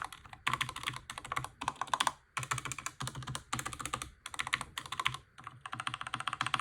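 A Logitech keyboard fitted with replacement switches being typed on, close and clear, bursts of quick clacky keystrokes separated by brief pauses, with no voices.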